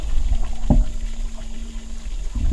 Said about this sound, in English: instead of running a pump, I'm just siphoning the water.